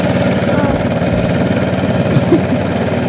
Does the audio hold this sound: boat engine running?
yes